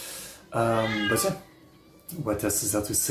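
A house cat meows insistently in a long drawn call, then a few shorter meows, close by and alternating with someone talking indoors.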